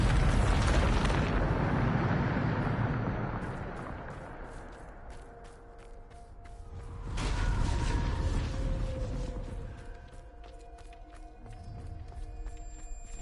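In Hogwarts Legacy on PS5, the Bombarda blasting spell sets off a loud, close explosion with a rumbling decay, followed several seconds later by a second, similar blast.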